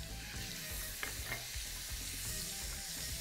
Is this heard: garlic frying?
yes